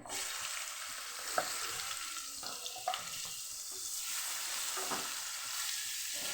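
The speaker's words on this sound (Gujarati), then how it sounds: "બે ડુંગળી આપણે જે લીધેલી ઝીણી ઝીણી સુધારી લીધી છે અને આપણે એને સાતડી લેવાની છે" Two finely chopped onions sauté in oil with asafoetida in a pan for Kathiyawadi dal tadka, a soft steady sizzle close by with a few light scrapes of stirring, no talk.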